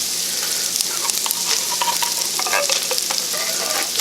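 Drained, browned ground beef being stirred and mixed in a pan for a tater tot casserole, with a steady low sizzle and irregular scraping, clicking stir strokes up close, no talking.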